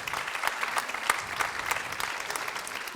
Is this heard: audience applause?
yes